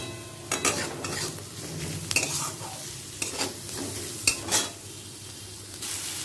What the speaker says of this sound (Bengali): পেঁয়াজটা ঠিক এই রকম ভেজে নিলাম